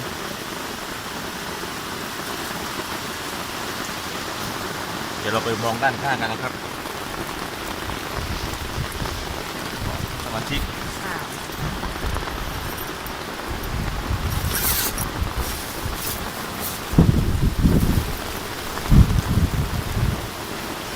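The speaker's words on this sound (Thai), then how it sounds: "มาทั้งลมทั้งฝนแล้วครับเนี่ย" Steady heavy rain drums on a tent at Hat Chao Mai National Park, Thailand, with gusts of wind and someone speaking over it now and then.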